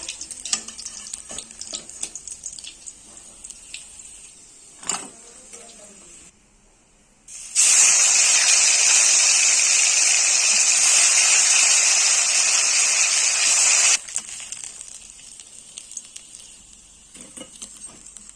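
Fish frying in mustard oil while potatoes and drumsticks are cooked for a fish curry: a loud, steady sizzle bursts in after a few seconds of soft kitchen sounds, holds for about six seconds, then drops back to quieter pan noise.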